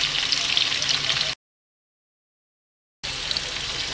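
Tofu stuffed with minced dace fish pan-fries in hot oil over medium heat, giving a steady, close, crackling sizzle that cuts out completely for a moment before resuming just as strongly.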